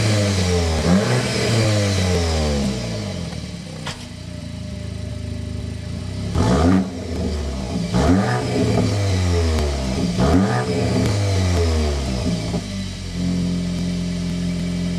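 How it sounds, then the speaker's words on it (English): A 2025 Audi S3 engine starts and revs repeatedly, the exhaust rising and falling in loud, close bursts before settling into a throaty idle. "start it up so you can hear that exhaust note"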